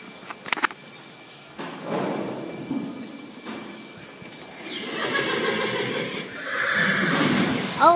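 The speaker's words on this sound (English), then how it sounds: "Here's my horsey." A horse at a veterinary visit gives a loud whinny late on, preceded by snorts, shuffling and a few sharp knocks, with a voice briefly audible in the background.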